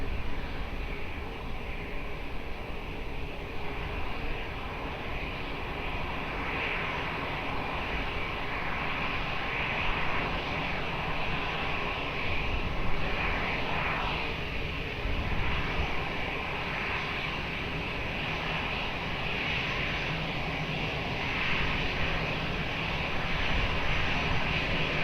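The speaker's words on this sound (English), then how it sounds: "Portugal 43 Tango Romeo, wind 210 degrees, 10 knots, runway 20, clear for takeoff" An airliner takes off from runway 20 at Lisbon Airport, its engines producing a steady, broad jet roar that holds at a constant loud level for the whole stretch, with no voices.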